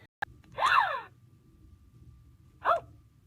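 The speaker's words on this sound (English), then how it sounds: "Like a gasping sound." A toy lets out two breathy gasping sounds, a longer one followed by a shorter one, with a sharp click just before.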